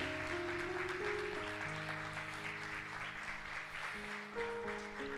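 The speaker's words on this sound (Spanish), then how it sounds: "le damos un fuerte, fortísimo aplauso a la palabra del Señor" Congregational applause in a church service, a steady wash of clapping under sustained organ or keyboard chords that keep playing throughout, fairly quiet and distant.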